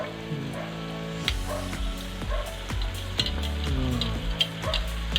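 Steak searing in a hot pan, a strong sizzle broken by several sharp clanks and scrapes of turning and handling, close up and without speech.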